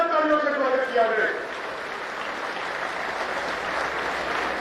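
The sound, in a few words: crowd applause at farmers' rally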